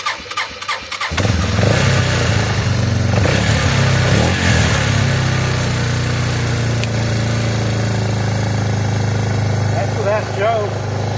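An old engine on a machine rebuilt with used parts cranks briefly, then catches and runs at a loud, steady idle close by, with a person speaking over it near the end.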